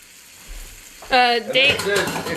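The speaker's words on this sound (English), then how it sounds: "So peppers and onions, right, into the bacon fat." Peppers and onions going into hot bacon fat, a quiet pan hiss that flares into loud crackling sizzle halfway through, close up with a voice speaking over it.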